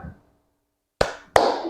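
Two sharp, loud hand claps about a third of a second apart, each with a short ringing tail in a quiet room, following a faint murmur at the start.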